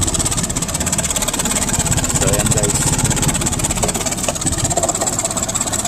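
A split air conditioner's blower fan whirs loudly and steadily with a rough, rattling drone throughout, and someone speaks briefly over it.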